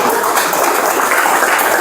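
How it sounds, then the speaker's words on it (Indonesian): Applause from an audience at a madrasah school orientation event, a steady dense clatter of clapping sustained through the short moment. "Tepuk tangan buat Yuda."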